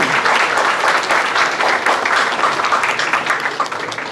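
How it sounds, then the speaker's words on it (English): Steady applause from a crowd at an opening ceremony, dense continuous clapping filling the whole stretch with no pauses, loud and close. "A big round of applause, everyone"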